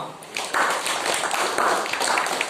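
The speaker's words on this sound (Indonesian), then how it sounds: "tepuk tangan untuk kalian semua" Classroom applause from students in a lathe machining lesson, a short, steady patter of many hands clapping together, moderately loud and close.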